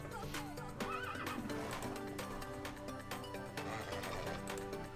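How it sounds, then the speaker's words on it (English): A default horse in the Minecraft video game whinnies amid dense, continuous game music and sound effects, the neigh blending into the busy, loud mix. "I forgot he was like a default Minecraft horse"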